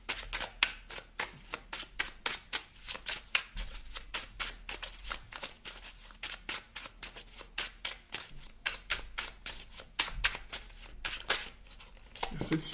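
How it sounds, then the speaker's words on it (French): Petit Oracle de Merlin cards are shuffled continuously in quick, crisp riffling bursts, close and fairly quiet, with a voice speaking faintly at times. "Je vais aller vous chercher maintenant une carte du petit oracle de Merlin."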